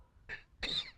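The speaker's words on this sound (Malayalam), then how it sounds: "നിന്റെ ചുമയൊന്ന് നിർത്ത്" Two quick rough coughs in close succession, the second longer and stronger, near and clear over a quiet background.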